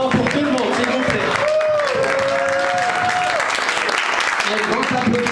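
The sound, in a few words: applause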